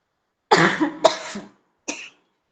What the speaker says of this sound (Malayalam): ജലദോഷം കഴിഞ്ഞുള്ളൊരു ചുമയാണ്